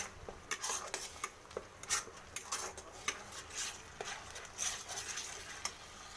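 Cauliflower stalks with turmeric, cumin and salt are stirred hard in a pan, giving repeated scraping clinks of the spatula against metal over a soft, low sizzle; no talking.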